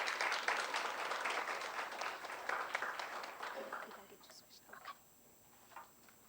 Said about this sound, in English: let's give a warm welcome and big hand clap for Ms. Dorlisa S. Hutton.